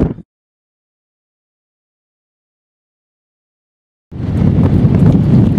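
Strong wind roars across the Sahara desert during a solar-bicycle crossing, buffeting the microphone: a short gust, then silence, then a loud, steady, broadband rush that keeps going to the end.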